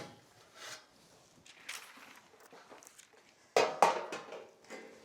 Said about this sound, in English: I'm going to bring across my tray